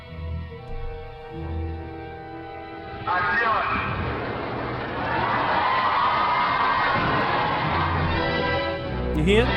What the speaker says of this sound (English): You hear the people screaming,